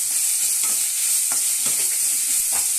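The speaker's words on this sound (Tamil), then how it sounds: "எண்ணெய் ஊற்றி பட்டை, லவங்கம், சோம்பு போட்டாச்சு, பிரிஞ்சி இலை போட்டாச்சு, பச்சை மிளகா, ஸ்ப்ரிங் ஆனியன் போட்டிருக்கேன்" Whole spices, green chillies and spring onion fry in hot oil with a steady close crackling sizzle, while a spoon stirs and scrapes the pan a few times.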